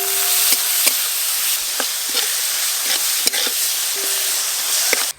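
Chopped carrot, onion, green chili and tomato with salt and turmeric fry in a pan for a potato filling, giving a steady, close sizzle broken by occasional sharp clicks of a stirring utensil.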